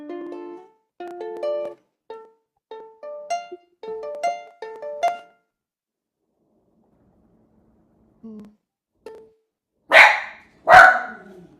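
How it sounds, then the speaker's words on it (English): Guitar notes ring out first, then after a pause a dog gives two loud, sharp barks close by, standing alone at the end. "Sorry, dog bark."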